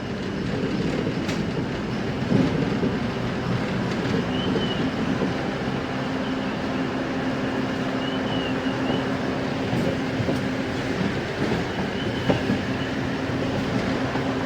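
A passenger train running from Dandeli to Alnavar rolls on with a continuous loud rumble and faint rhythmic wheel clatter, heard from inside the moving carriage.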